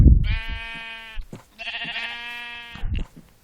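Sheep in the video game Minecraft bleat twice, each a clear, wavering call about a second long, with a short gap between them.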